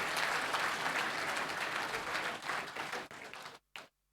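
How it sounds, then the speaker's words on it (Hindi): A crowd at a DDA scheme launch event in Delhi claps for the Lieutenant Governor, with dense applause that thins out and then cuts off abruptly. "एक बार जोरदार ताली बजाओ भी एलजी साहब के लिए।"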